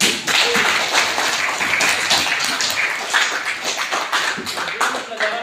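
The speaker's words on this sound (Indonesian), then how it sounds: "Tepuk tangan dulu untuk kita." Students in an Indonesian classroom clap together in a burst of rapid, uneven hand claps that fills the room for several seconds, with some voices mixed in.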